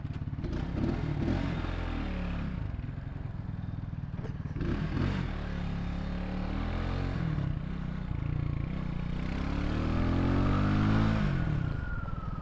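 A motorcycle rides down a highway with a continuous engine roar and strong wind rush, the engine revving up and down over a steady drone.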